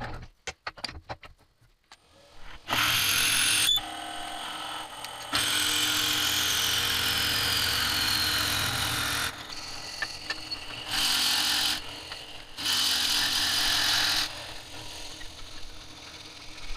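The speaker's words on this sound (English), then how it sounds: "get this ready to bore through to the depth, to the diameter I need on the inside" A steady whirring grind of a drill boring into a wood peppermill blank on a lathe, running in long sustained stretches with brief pauses and rough scraping between.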